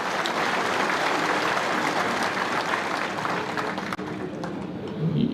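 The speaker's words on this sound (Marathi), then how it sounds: "आपण सर्वांनी टाळ्या वाजवून पहिल्यांदा पवार साहेबांचं या ठिकाणी स्वागत करा" Crowd of party workers clapping to welcome Sharad Pawar at a political gathering, a dense, steady applause heard from a distance, fading slightly toward the end.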